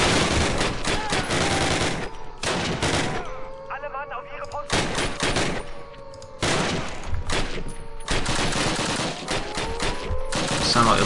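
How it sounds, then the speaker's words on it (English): Gunfire in Call of Duty: loud, close machine-gun bursts come in dense clusters, separated by brief lulls with softer shots in the background. "Sound like American fire."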